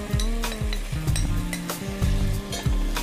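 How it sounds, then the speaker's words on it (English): Prawns dropped into a hot pan of sautéed onions sizzle and crackle steadily, with a few clinks of a utensil against the pan and no talking. "now we are going to pop in the prawns"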